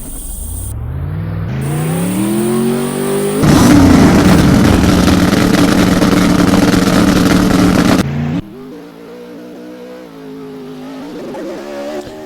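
A Pro Mod drag racing car makes a qualifying run: a loud engine revs and climbs in pitch, then a roaring full-throttle blast holds for several seconds, cuts off abruptly, and trails into a quieter fading engine note.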